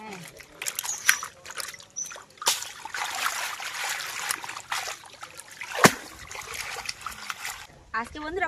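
Small fish being rinsed by hand in water for a shukto dish, with trickling, splashing and sloshing throughout and a sharper splash near the end, under talk.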